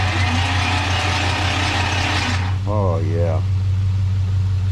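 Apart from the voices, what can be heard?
3rd gen Camaro engine cranking after 10 years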